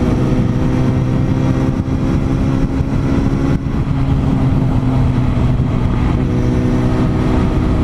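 Suzuki Bandit 650cc motorcycle with an aftermarket Arache exhaust, its engine running in a steady, loud, close rumble that holds throughout with a brief dip midway, no talking over it.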